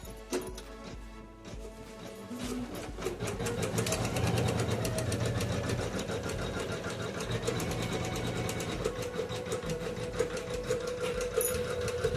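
A home embroidery machine stitches a design with a fast, steady mechanical chatter of needle strokes. The sound is close and continuous after a brief start-up.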